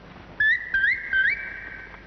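Three short rising whistled chirps in quick succession, bright and clear over a quiet background, like a bird call.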